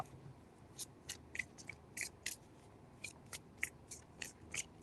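Tarot cards from a Witches Tarot deck being shuffled in three quick bursts, giving soft, crisp riffling flutters separated by short pauses, fairly quiet and close.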